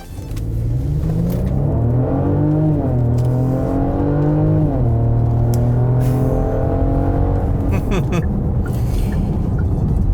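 A 2022 Genesis GV70 with a 3.5 litre turbo engine accelerating hard from standstill to 100 km/h, loud close engine roar with rising pitch through several gear changes, steady and continuous throughout.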